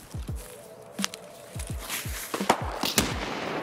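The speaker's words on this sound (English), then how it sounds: "Oh, it's a grenade launcher." Grenade launcher rounds bursting in a multiplayer shooter game, a rapid series of sharp booming impacts roughly every half second over a busy, noisy battlefield background.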